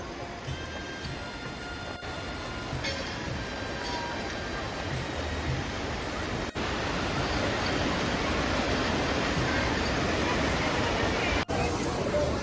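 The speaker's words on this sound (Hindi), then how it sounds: "ये है प्रमुख जल की धारा धनुष सेतु के नीचे।" Ganges river current rushing under the Dhanush Setu bridge in Haridwar: a steady, dense roar of flowing water that runs unbroken, loud and close, with no talk over it.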